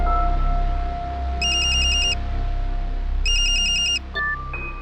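A telephone rings twice in bursts of electronic trilling, loud and close, over a steady tone and background hum, in a Hindi TV crime drama scene about a doctor.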